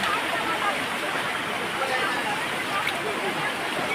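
Water pours down the Palasdari waterfall near Karjat in a steady, dense roar that fills the whole stretch without any break, loud and close, with no distinct voices rising above it.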